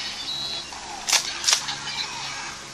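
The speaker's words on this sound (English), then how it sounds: "that's the sound of Gaia memories exiting the belt." Toy transformation belt sound effect as a Gaia memory is pulled out, a sound reused from the CSM Kabuto Zecter: two short, bright mechanical bursts about a third of a second apart over a quiet electronic hiss.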